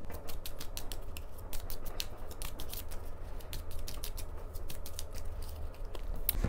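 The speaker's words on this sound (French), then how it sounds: "Je commence tout de suite à battre mon premier oracle des Médéors." A Médéors oracle card deck being shuffled by hand, a rapid run of crisp card riffles and flicks that patters steadily throughout, close and with no talking.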